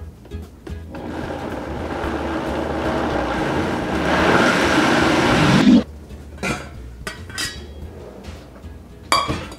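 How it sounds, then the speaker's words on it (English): A blender purees cashews with water for a cashew cheese fondue, a loud, steady whirring roar that builds for about six seconds and then cuts off, followed by a few light clinks. "Now we're going to blend all of this up together."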